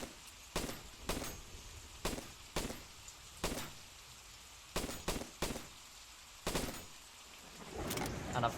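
A G3 battle rifle firing in first-person in XERA Survival: about a dozen sharp, loud single shots spaced unevenly, some in quick pairs, over a quiet background, ending in a softer clattering rustle.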